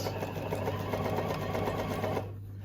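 A sewing machine stitches around the edge of a fabric bookmark, a close, steady, rapid mechanical whir that stops abruptly near the end.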